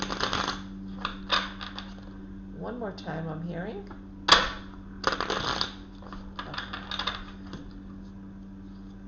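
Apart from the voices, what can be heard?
shuffling tarot cards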